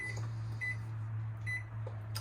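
A travel trailer's microwave gives short electronic beeps as its clock button is pressed, three or four bright tones spaced apart over a low steady hum, close and alone.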